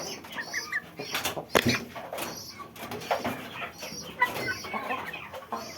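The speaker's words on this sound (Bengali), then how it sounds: "এই দেখেন মোরগটা মার্শাল্লাহ" Aseel rooster and hens cluck and call in a series of short, irregular bursts, close by, with one sharper loud note partway through and no talk.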